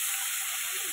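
Tomatoes hit hot oil with nigella seeds and give a loud, steady, close sizzle that hisses on without a break and with no talk.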